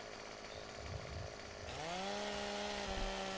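A chainsaw in Farming Simulator 2015 cuts a tree trunk, first a rough low rasp, then the engine revs up into a steady whining drone that holds to the end, fairly quiet.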